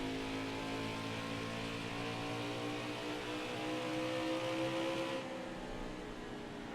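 Race car engines in NASCAR Heat 5 with a 1998 mod at Iowa hold a steady, droning whine that rises slowly in pitch and then shifts near the end, loud and continuous, with no talk over it.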